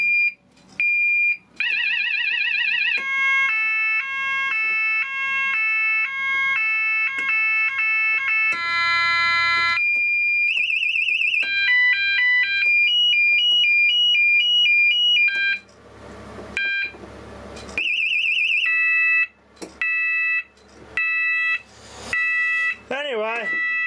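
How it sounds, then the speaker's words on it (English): An e2s electronic reversing alarm and warning signal cycles through a series of loud, close tones: steady beeps, stepped warbles, pulsing patterns and sweeping whoops, with brief silent gaps as it switches between them. "Another reversing alarm."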